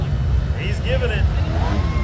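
A four-wheel-drive vehicle's engine revs hard at a harvest festival mud hole, a loud, steady low rumble with voices talking over it.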